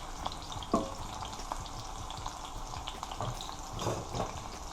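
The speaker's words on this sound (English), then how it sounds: "I am just frying them off in there" Pieces of fish frying in oil in a Dutch pot for Jamaican brown stew fish, a steady close sizzle and crackle with occasional stirring clinks from a wooden spoon.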